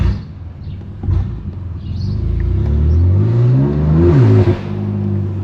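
A BMW F80 M3 Competition with a straight-pipe exhaust on its S55 engine revs loudly while driving through city streets, the engine note climbing steadily in pitch, peaking, then dropping back off.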